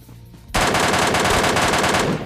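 MK14 rifle in PUBG Mobile Lite firing a rapid, loud burst of shots that lasts nearly two seconds after a quiet moment, close and dense with no talking.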